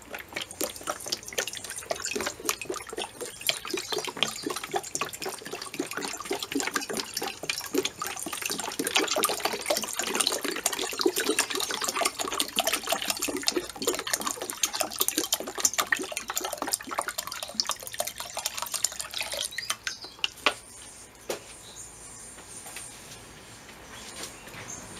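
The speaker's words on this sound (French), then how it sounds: "On va la remplir d'eau." Tap water runs steadily into a saucepan for about twenty seconds, a busy splashing hiss that thins out near the end.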